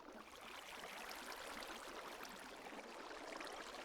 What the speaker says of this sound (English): I hear water, so I'm digging towards it.